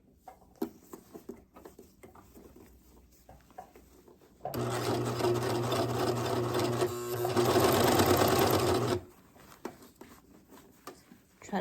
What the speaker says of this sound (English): now what I'm going to do is I'm just going to take it through my serger